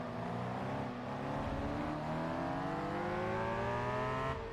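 A BMW M3 GTR racing car engine in Gran Turismo 4 howls loudly and continuously, its pitch climbing steadily through the gears as it accelerates, close and alone with no talk.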